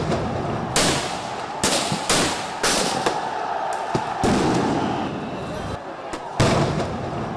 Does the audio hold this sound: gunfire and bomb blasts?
yes